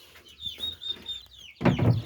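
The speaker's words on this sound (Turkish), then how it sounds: "Burada da küçük köy tavuklarımız var." Village chickens clucking softly with a few high calls, then a louder burst of clucking and rustling near the end.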